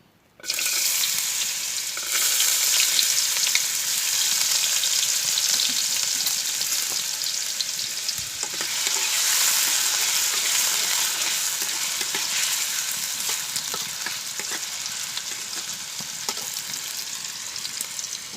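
Potato pieces sizzle steadily in hot oil at the start of a daliya pulao, a loud, dense, continuous frying hiss that begins abruptly and runs throughout with faint stirring clicks.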